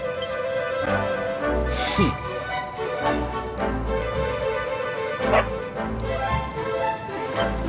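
Short dog barks and yips from the Dragon Quest XI S video game, heard as a few scattered bursts over continuous game music, fairly close and clear.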